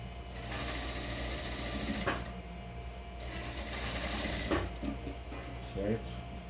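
A sewing machine stitches a jacket sleeve lining in a steady rapid whir, running in long bursts with brief pauses, close and prominent.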